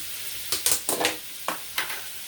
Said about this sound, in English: I'm going to give the sausage a flip